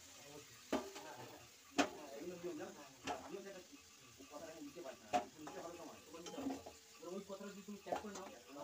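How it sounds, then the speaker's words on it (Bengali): Fried potatoes are scooped out of leftover fish-frying oil, with sharp utensil clinks over a faint sizzle while someone talks throughout. "আলু তুলে নিলাম"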